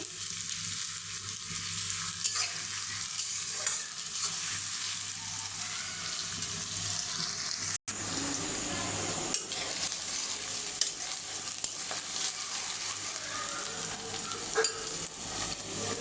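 Washed fish roe and fat fry in oil, giving a continuous busy sizzle with scattered pops and stirring scrapes, briefly cut by a sharp break near the middle before the frying noise resumes.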